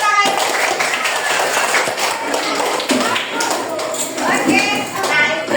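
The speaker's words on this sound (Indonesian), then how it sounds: "Oke, tepuk tangan." Children in a classroom clap their hands in quick, uneven bursts of sharp taps, with voices talking over the clapping.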